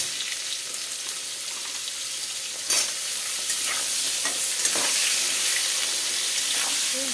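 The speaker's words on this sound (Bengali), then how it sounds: "আলু একটু ভাজা ভাজা করে নেব" Potatoes fry in oil with panch phoron in a pan, giving a steady, close sizzle with occasional stirring scrapes and clicks, and no voices.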